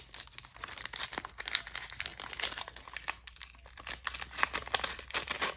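A 2023 Panini Premier League football card pack wrapper is torn and crinkled open, giving a dense run of close, crackling plastic rustles and rips with no talk.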